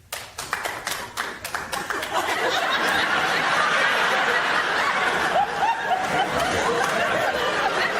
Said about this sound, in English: I want you to applaud if you are Catholic.